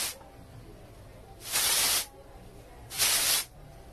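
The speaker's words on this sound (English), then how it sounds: "you're going to spray it out the roots" Bumble and Bumble Thickening Dryspun Texture Spray is sprayed onto hair roots in two close, steady hissing bursts, each about half a second long, with quiet pauses before and between them.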